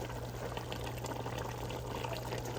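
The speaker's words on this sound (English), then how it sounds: "So I'm gonna add some more water because I want it to cover." Water poured into a pot of boiling pork neckbones, a steady close splashing stream that runs unbroken with no voices over it.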